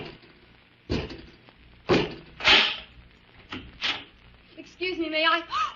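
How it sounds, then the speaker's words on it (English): A robot servant opens a door in an old radio drama, heard as several loud mechanical thunks and clanks spaced out over a few seconds, followed by a voice at the end. "Robot 2, open the door."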